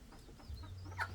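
A pigeon-keeper's bird, a fowl in an Indian Fantail pigeon breeding loft, gives soft clucking calls nearby, a few short low bursts over a steady low hum, with one sharper call near the end.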